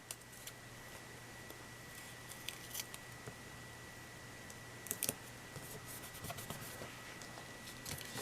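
Scissors trim a paper craft piece with quiet, close snips, scattered at first and then a quicker run of cuts near the end, over a faint steady hum.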